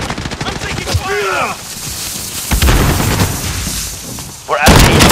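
Gunfire in the Call of Duty: Modern Warfare video game during a headquarters capture fight, loud bursts of shots and booms crackling over the whole stretch, with a shouted voice midway and another burst near the end.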